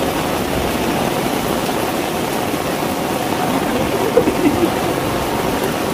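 Pouring rain drums steadily on a rooftop as a dense, even hiss, with a few small knocks and splashes near the end.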